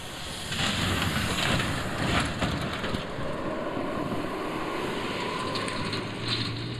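A heavy off-road ground drone's engine runs with a low, steady hum throughout, fairly quiet and even, with a faint whirring texture and no voices.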